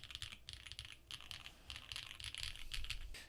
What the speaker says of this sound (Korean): 타건감은 이 캔디 바닐라 스위치가 이렇게 바닥을 치는 스위치거든요